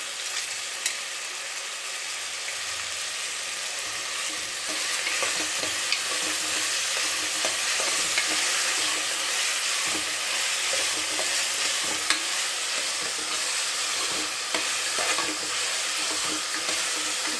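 Vegetables and rice for pulav stirred in a pan, a steady scraping and shuffling with a soft sizzle underneath, continuous and close for the whole stretch, no voices.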